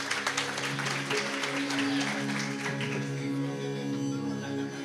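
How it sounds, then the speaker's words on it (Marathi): A theatre audience at a Marathi devotional play breaks into applause, a dense burst of clapping that fades under a sustained musical tone and a faint voice. "जोरदार टाळ्या होत्या."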